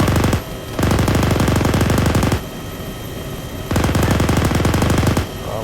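Machine gun fire in a combat engagement, with two long, loud, rapid bursts of evenly spaced shots separated by a short gap, plus a brief opening burst.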